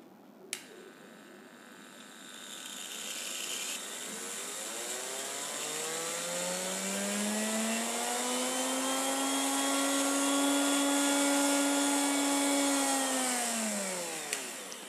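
A DC motor with a rewound armature runs up to high rpm, its rising whine climbing steadily over several seconds, holding a loud, even pitch, then falling away as it slows near the end.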